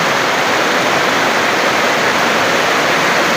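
Heavy rain pours down outdoors in a constant, loud, dense roar with no breaks and no voices.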